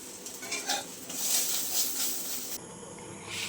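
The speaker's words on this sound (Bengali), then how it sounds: "এখন ডিম ভাজা করছি" Eggs frying in a pan in a village kitchen, with steady sizzling and hissing, scattered clinks of a utensil against the pan, and a brief sharper stir near the end.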